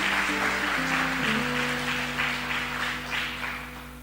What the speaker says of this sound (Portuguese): Você pode aplaudir o Senhor bem forte por essa palavra?